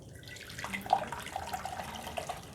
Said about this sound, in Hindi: अब मैं इसमें जो है यखनी डालूँगी